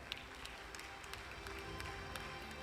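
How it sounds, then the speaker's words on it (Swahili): Faint, thin applause from an audience at a workers' compensation fund tenth-anniversary ceremony, a steady patter of clapping heard at a distance with no talk. "Makofi kwako tafadhali."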